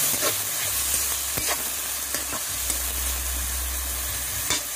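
Tomatoes go into a frying pan for sarciadong tilapia, giving a steady close sizzle and hiss with intermittent scraping and stirring taps of a utensil against the pan.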